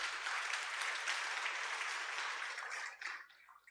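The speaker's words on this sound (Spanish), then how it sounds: "Aleluya, dale un aplauso." A church congregation claps together in a dense, even round of applause that holds steady, then thins and fades out near the end, heard from a slight distance.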